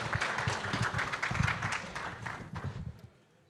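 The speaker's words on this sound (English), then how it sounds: "give yourselves a big round of applause" Audience at an industry conference applauding, a dense wash of clapping that fills the room for about three seconds and then fades out.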